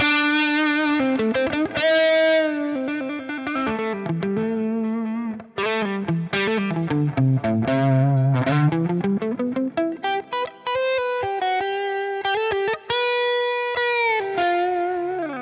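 An electric guitar plays lightly overdriven, bluesy lines with bends and sustained notes, alone and fairly clean.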